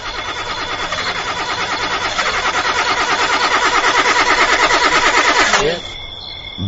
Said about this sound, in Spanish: Este coche siempre me deja tirado en el peor momento.